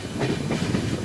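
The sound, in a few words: train arriving at Bokaro Thermal station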